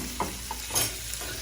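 Chopped onion, green and white parts, with cilantro sizzling in a pot for homemade charro beans, a soft steady frying hiss broken by a few light stirring knocks.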